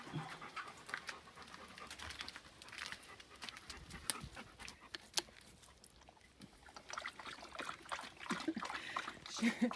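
A dog laps and splashes at a granite-filtered water spring in rural Portugal, with wet slurping and trickling sounds alongside panting, close and steady, while a person talks over it.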